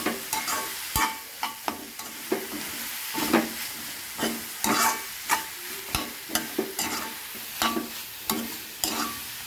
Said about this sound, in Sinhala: දැන් මේකට පොල් කෝප්ප භාගෙ දාගන්න. දාලා හොඳට කලවම් කරගන්න.